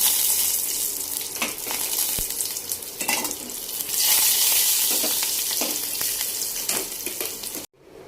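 Onion and cumin frying in a pan for a Telangana-style raw tamarind rasam, a dense, steady close sizzle with faint stirring scrapes throughout, ending abruptly.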